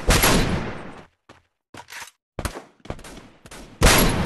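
Gunfire bursts in the Free Fire team deathmatch mode, loud close volleys and short rapid rattles separated by brief silences, with a heavy burst at the start and again at the end.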